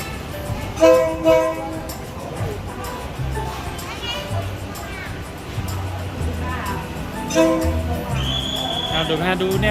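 A train rumbles past nearby through a market with a loud horn blast, while a lively crowd chatters and calls out around it.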